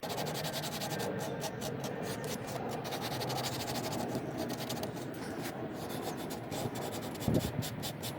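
Continuous close rasping and scratching as a worn sanding sponge works the burred cut edge of copper tubing, steady strokes throughout with a brief louder knock near the end.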